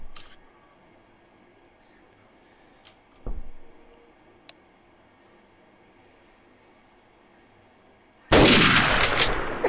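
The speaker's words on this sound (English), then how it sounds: "We just start shooting down fucking Main Street, shooting everybody." Sniper gunfire in the video game Garry's Mod, set in a Berlin street: a few sharp isolated shots over a quiet background, then a loud sustained burst of firing near the end.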